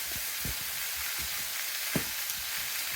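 Lean 90/10 ground sirloin frying in a pot for chili, a steady soft sizzle with a few faint scrapes of stirring throughout.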